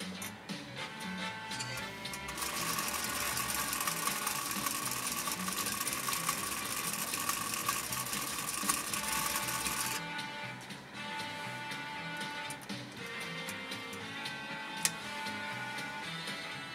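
A 1935 Singer 95-60 industrial sewing machine driven by a separate motor through a long pulley belt runs steadily, a fast soft ticking and whirring at moderate distance, with a brighter stretch of machine noise partway through and no voices.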